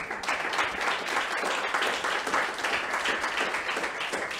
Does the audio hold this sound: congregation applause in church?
yes